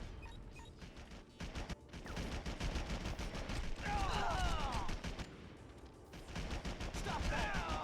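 Rapid gunfire bursts in the video game Red Faction while fighting off soldiers, with dense repeated shots throughout, some whining ricochet-like sweeps and scattered game effects.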